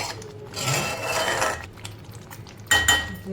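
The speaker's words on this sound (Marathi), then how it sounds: "परतवत राहायचं, कारण खाली लागता कामा नये म्हणून." A spoon scraping and clinking against a pan as thick cashew-seed gravy is stirred and turned to keep it from sticking, with soft steady scraping that ends in a couple of sharper metallic clinks.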